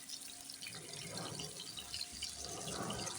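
Chicken liver (kaleji), cut into small pieces, sizzles on a hot tawa with a steady, close watery hiss and crackle that swells slightly as more pieces go in.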